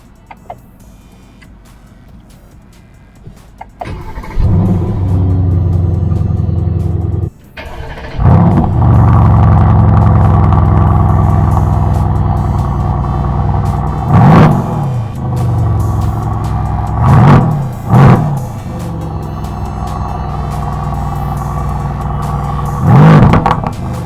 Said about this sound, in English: So, let's cold start this car.